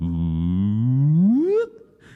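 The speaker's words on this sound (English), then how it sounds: "And then we're going to do a vocal riser." A sustained sung 'ooh' starts low and slides steadily upward to a higher pitch, then cuts off, followed by soft breathy noise.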